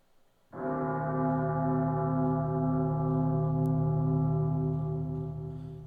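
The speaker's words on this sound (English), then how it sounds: "A bell tolled in the darkness, deep and low" A deep, low bell rings once and its long, humming tone sustains and slowly fades, heard alone in silence.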